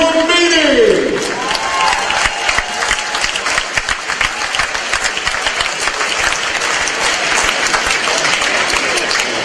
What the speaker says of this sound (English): Once again, give a warm round of applause to Chuck Flamini.